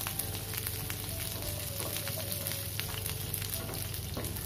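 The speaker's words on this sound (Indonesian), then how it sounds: "Kita goreng sampai layu dan mengeluarkan bau harum." Spices frying over medium heat in a pan for soto Betawi, a close, continuous sizzle with light crackles running throughout, no voices.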